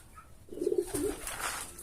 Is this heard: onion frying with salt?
no